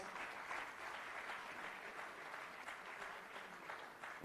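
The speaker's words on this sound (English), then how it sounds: "Huge round of applause." An audience at an education panel discussion claps steadily in a continuous, fairly quiet wash of applause, heard at some distance with no speech.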